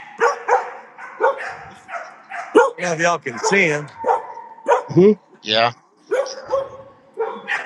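Several dogs bark and yip close by in short repeated bursts, with a person talking over and between the barks.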